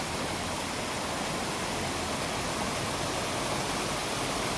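Steady rushing roar of Nang Khuan Waterfall, constant and full-bodied, with no voices over it.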